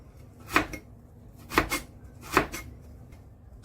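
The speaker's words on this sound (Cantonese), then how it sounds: "跟住將佢切為一條條" A knife chops a peeled carrot into strips on a board, three or four distinct sharp taps spaced about a second apart, close and fairly quiet.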